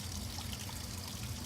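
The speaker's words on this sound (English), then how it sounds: "Gently just hold on to it and rinse it in warm water. Just let it flow on the feathers." Warm tap water runs steadily over bird feathers being rinsed, a soft continuous trickle and splash with no pauses.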